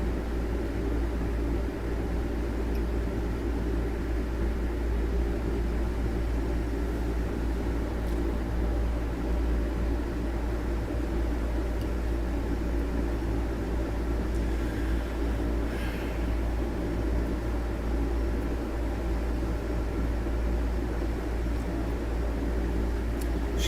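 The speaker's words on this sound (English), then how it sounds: "I like watching her vacuum out this room." A vacuum cleaner running in a room gives a steady, loud, unbroken whooshing drone with a low motor rumble throughout, with no voices over it.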